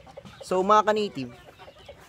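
A native Filipino chicken lets out a short, loud clucking squawk close by, with a person speaking briefly around it.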